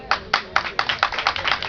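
Rhythmic group clapping at a political rally in Gabon, a steady run of about eight sharp, fairly close claps in a quick even beat.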